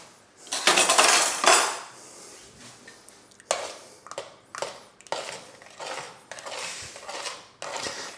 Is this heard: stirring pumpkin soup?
yes